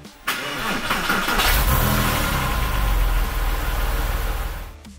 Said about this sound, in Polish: wracamy za kółko i możemy bez problemu odpalić samochód